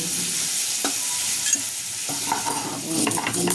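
Home cooking in a pan with a steady close sizzle while a utensil stirs and scrapes, producing a few clinks and knocks over the frying hiss, and no one speaks.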